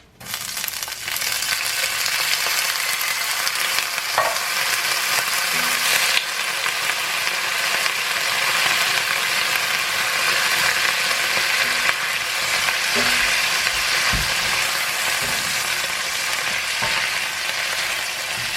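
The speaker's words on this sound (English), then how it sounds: "I'm just going to toss in this drained can of green beans" Drained canned green beans frying in a cast iron pan over low heat, a constant close sizzle with intermittent stirring and scraping clicks against the iron.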